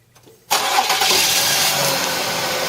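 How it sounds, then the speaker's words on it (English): After a brief quiet moment, a Mazda MPV engine cranks and catches, settling into a loud, steady idle close by. "Go ahead, Caroline, start the engine up."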